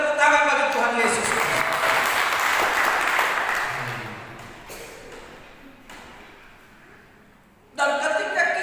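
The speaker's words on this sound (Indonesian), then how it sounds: "kita beri tepuk tangan bagi Tuhan Yesus" A congregation claps during a church service, a dense burst of applause that swells and then fades away over several seconds, with a voice returning at the end.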